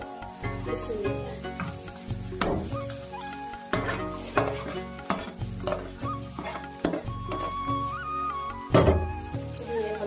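Boiled potatoes are mashed and squished for aloo bharta, making repeated soft, close squelching strokes in an uneven rhythm over steady background music.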